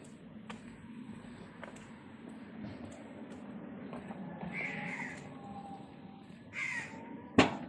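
Several crows caw overhead in a residential neighbourhood, their harsh calls scattered and moderately distant over a low background hum, ending with a sudden sharp knock close by; no one speaks.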